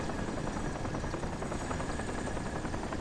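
Helicopter in the video game Crysis, a steady rotor thrum and engine whine holding at constant loudness throughout, fairly distant and with no voices over it.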